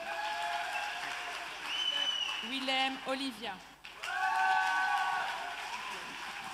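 Applause from parents at a primary school graduation ceremony at Ursulines in Mons, a dense crowd clapping under a speaker on a microphone who reads out pupils' names, with clapping continuing steadily throughout.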